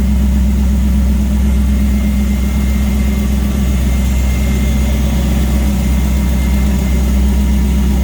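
A 1967 Chevrolet C10 regular cab short box pickup with a swapped-in 6.0-liter engine idles steadily and close by, a deep even low-end rumble holding for about eight seconds with no talk over it.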